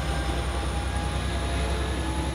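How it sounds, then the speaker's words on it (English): Metrolink commuter train rolling past with a steady, loud low rumble and continuous rail noise, no voices. "The Metrolink connects thousands of people to places like work and school."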